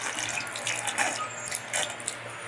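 Mineral spring water at Saratoga Springs flows steadily from its source spout, a close, soft continuous hiss and splash with a low background hum.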